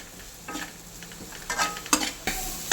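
Ingredients for a village-chicken egg curry are sautéed in a pan. A few quick scraping stir strokes cut through a soft sizzle in short bursts over under three seconds, and no voices are heard.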